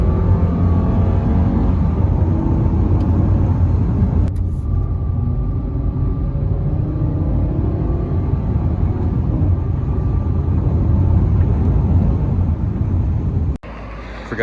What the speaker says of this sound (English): This thing goes through the gears pretty smoothly.